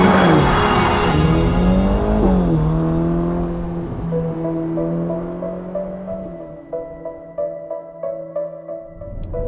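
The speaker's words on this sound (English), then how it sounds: "it's a gorgeous place to drive an even more gorgeous car, the Roma Spider" Ferrari Roma Spider driven on the roads of Sardinia, its engine loud at first and sweeping through gear changes, then settling into a steadier drone that fades somewhat while the revs rise and fall.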